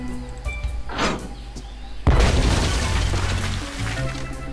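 Shots fired at a ship in the Monkey Island 5 video game: a soft whoosh, then a sudden loud boom at about two seconds, followed by a sustained rumbling, crackling impact that slowly fades.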